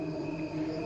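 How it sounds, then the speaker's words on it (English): A steady chorus of crickets chirps in the night with no gaps, many insects layered into a continuous bright trill at moderate distance. There is no talk. "I'm sure you can hear crickets"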